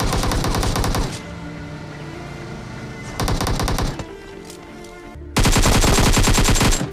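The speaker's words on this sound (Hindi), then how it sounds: "उसने जो है फायर किया लेकिन नहीं मार पाया" Bursts of automatic gunfire in the PUBG Mobile battle royale game, three loud rapid-fire volleys separated by quieter game ambience, with the last burst the loudest and closest.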